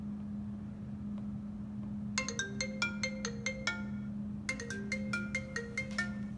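An iPhone 6 ringtone plays at full volume in two bursts of bright, repeating melodic tones over a steady low electrical hum, fairly close and clear.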